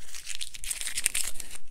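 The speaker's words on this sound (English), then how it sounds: "we're going to take part of our tape off" Masking tape is peeled off watercolour paper in a series of crisp, close tearing and crinkling pulls, bright and papery, with short pauses between strips and no voices.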